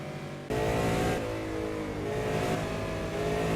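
A race car engine in the video game Simraceway revs up hard and holds a loud, buzzing tone that climbs steadily in pitch as the car accelerates, close and with no one talking.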